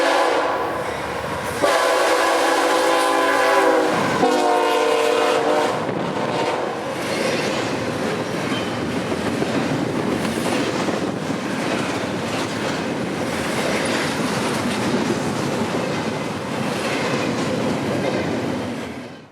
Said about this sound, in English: here'd come I-045 with a friendly crew and a short train for Tampa